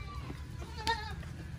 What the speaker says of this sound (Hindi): ये देखे माशाल्लाह ऐसे आ रहे हैं बकरे सामने